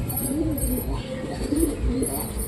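A pet pigeon coos in low, repeated bursts, close by and moderately loud, with a person talking over the calls.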